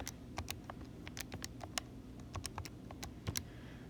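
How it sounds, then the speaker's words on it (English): Numbers typed into a calculator, a close, quiet series of quick plastic button taps in irregular bursts, with no voices. "Then I'm going to type this whole thing in my calculator."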